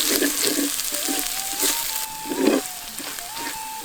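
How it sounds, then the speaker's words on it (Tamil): Crushed shallots and ground masala frying in a pan, a steady close sizzle with soft stirring scrapes, and a voice speaking lightly over it. "மசாலாக்களை எல்லாத்தையும் நல்லா வறுத்துட்டு"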